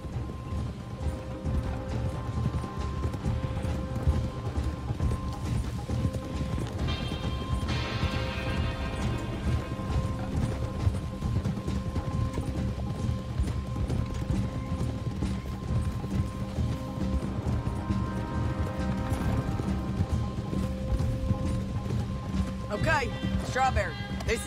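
Horses' hooves clip-clop steadily in Red Dead Redemption 2, a continuous moderate trotting rhythm with creaks and faint ambient noise, while characters talk over it throughout.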